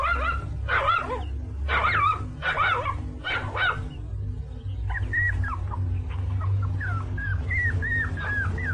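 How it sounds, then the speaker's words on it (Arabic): In an animated series, a dog gives a quick run of sharp, yelping barks and then drawn-out, high whimpering whines over a low background hum. "كلب ذكي حقا"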